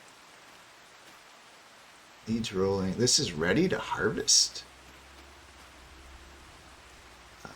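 Rain falls in Farming Simulator 25 as a soft, steady hiss that runs throughout, with someone talking briefly over it midway.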